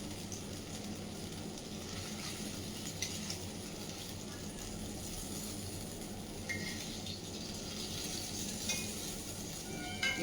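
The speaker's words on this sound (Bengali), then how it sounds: "এর মধ্যেই ফোড়ন দিয়ে আমি গ্রেভি মশলাটাকে কষাবো।" Gravy spice masala sautés in a little oil for paneer kofta, a faint, continuous sizzle with occasional light utensil clinks against the pan, quiet and close, no one talking.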